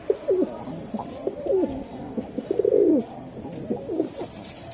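Pigeons coo nearby in a market-like setting, with several soft, throaty, warbling calls overlapping in irregular bursts against faint background noise.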